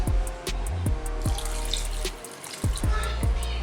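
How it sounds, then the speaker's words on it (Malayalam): Water is poured into squeezed tamarind for rasam, making a continuous close splashing stream. Rhythmic low thuds and gurgles recur about every half second beneath it. "ഇനി ഇതിലേക്ക് ഇത്രയും കൂടി വെള്ളം ഒഴിച്ചു കൊടുക്കാം"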